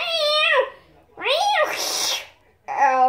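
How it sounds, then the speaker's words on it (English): A kitten gives several close, high-pitched meows separated by short pauses, with a breathy sneeze-like burst in the middle. "It's a kitten."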